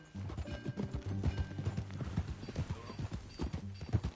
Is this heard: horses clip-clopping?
yes